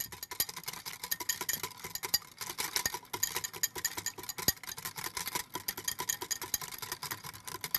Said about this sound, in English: Take about a tablespoon of Dijon mustard. Put that in there. Now we whisk.